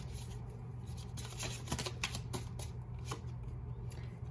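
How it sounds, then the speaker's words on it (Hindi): A deck of twin flame tarot cards being shuffled, a steady continuous riffle of soft papery flicks close up, fairly quiet against a constant low hum, with no speech. "let's pull some more cards from the twin flame deck"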